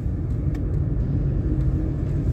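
A car rolls onto a highway with a steady, low road rumble and engine hum heard from inside the vehicle. The noise holds constant throughout, with no talking.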